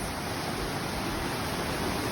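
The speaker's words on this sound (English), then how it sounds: "We're at the top of the waterfall." Steady broadband rush of falling water at the top of Amicalola Falls on the Appalachian Trail, a continuous even roar filling the scene with no voices.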